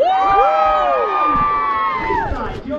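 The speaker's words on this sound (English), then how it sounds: "Give me a cheer" Theatre pantomime audience of adults and children cheering and shouting together in a loud, sustained burst of whoops and voices that swells and then fades slightly.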